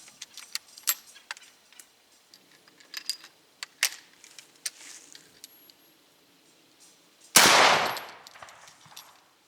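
A rifle chambered in .45 Government fires a single loud, sharp report after a run of metallic clicks and handling of the action, with a decaying boom echoing briefly afterward.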